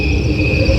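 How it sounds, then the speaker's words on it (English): Crickets chirp steadily in the foreground, a dense, continuous high trill over a low ambient bed of sound, with no voices present. "And in the foreground is the chirping crickets."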